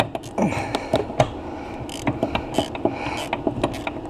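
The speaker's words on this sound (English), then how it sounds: "I'm using a 3/8 drive flex ratchet wrench with a 13 mil deep socket" A 3/8-drive flex ratchet wrench with a 13 mm deep socket works on a BMW 540i during a brake booster replacement, its pawl clicking in short, uneven bursts of close mechanical ratcheting with no one talking.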